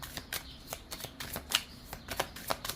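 Tarot cards shuffled by hand in a series of quick, crisp riffling bursts and flicks, close and fairly quiet, with no talking.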